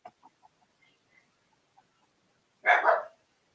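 A dog gives a single short, loud bark nearby after a stretch of quiet broken only by faint chirps.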